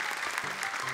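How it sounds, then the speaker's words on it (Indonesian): Studio audience applause for five contestants on the Indonesian TV show Hafiz Indonesia 2025, a brief steady burst of clapping at moderate level. "tepuk tangan untuk 5 peserta kita."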